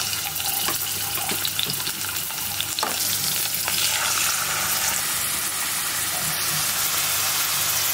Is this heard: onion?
yes